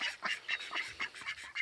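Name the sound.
ducks quacking in the evening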